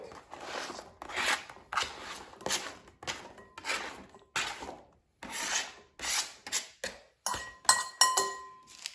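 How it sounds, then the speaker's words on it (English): Cucumber slices being handled and dropped into a bowl of Greek quinoa salad, with soft rubbing, scraping and light clinks repeating in uneven bursts, fairly quiet and close, no speech. "And now let's add sliced cucumber to our salad."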